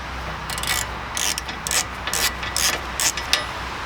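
Ratchet with an improvised 30 mm socket working on the front wheel bearing of a Mazda MX-5: several close, rapid clicking ratchet strokes in short uneven bursts over a low background, no talk.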